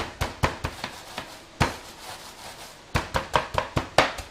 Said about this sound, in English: I've got 8 digestive biscuits, which I put into a Ziploc bag, and I'm just going to crush them down to make crumbs